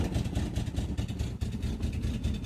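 An early Ford Zodiac Mark IV's engine idles steadily and low, rumbling continuously and close by, with an even throbbing texture and no voices.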